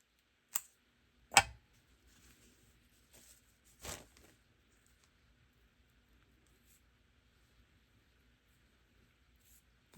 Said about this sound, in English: I'm going to lay this down, and I'm going to cut just a little bit more